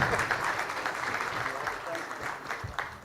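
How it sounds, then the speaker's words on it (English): Audience applause in a conference hall at a media industry event, a steady wash of clapping sustained for a few seconds with scattered louder claps, crowd murmur mixed in. "let the applause continue"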